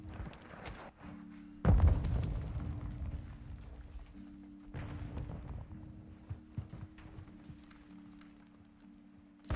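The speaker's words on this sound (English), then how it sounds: "I'm gonna toss a nade there" A grenade detonates in a first-person shooter, giving a loud booming blast followed by a rumbling decay over a steady low in-game hum, with scattered thuds and clatter afterward.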